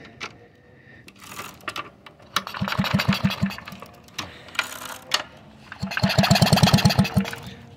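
A Kinetic Luna moped engine cranking over without firing, two rhythmic bursts of rapid chugging compression strokes with mechanical clatter, loud and close, separated by brief pauses.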